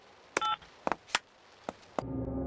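Telephone dialing in a Peppa Pig cartoon: a brief keypad tone, a few sharp, separate button clicks, then a steady tone at the end, all quiet and with no talking.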